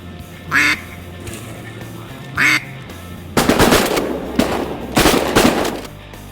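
Two loud, separate duck quacks during a duck hunt in Arkansas, then a sharp burst of several gunshots in quick succession.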